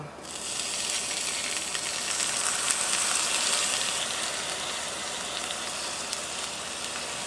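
A teaspoon of water hits soufflé pancakes in a hot covered pan, setting off a steady, bright sizzling hiss that holds evenly at close range with no talking.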